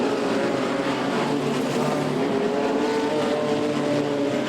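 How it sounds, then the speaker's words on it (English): Speedway race cars at Archerfield Speedway roar through the first turn about three wide, a loud, continuous blend of engines at full throttle with no voices over it. "They're about 3 wide through turn number 1, and where Gowan is at the moment"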